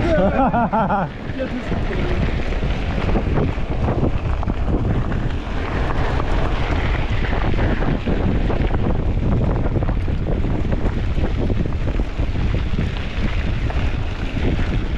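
Strong wind buffets the microphone throughout a September bicycle tour in Crimea between Feodosia and Koktebel, a dense, steady roar with gusty rumble that stays loud for the whole stretch and swamps any other sound.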